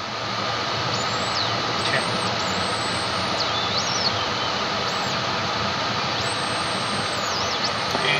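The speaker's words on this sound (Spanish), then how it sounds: "estamos listos para despegue, mi Dani." Fixed-wing airplane engine running during the takeoff on runway 31 at Torreón, a loud, steady broadband roar that holds without a break, with faint high whistling tones drifting above it.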